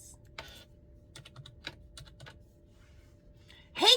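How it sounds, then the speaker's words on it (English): Keys on a computer keyboard tapped in a short, uneven burst of a few sparse clicks, close and fairly quiet, ending in a brighter clatter of keystrokes, with no talking. "Let's type in Grace."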